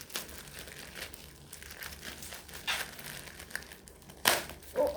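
Plastic packaging for a butterfly-knife-style comb crinkles and rustles as it is torn open by hand, quiet scrunching throughout with a sharper rip near the end.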